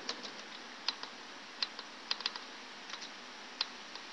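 Keys on a computer keyboard are tapped in short, irregular bursts of light clicks with brief pauses between them, quiet and close, with no voices.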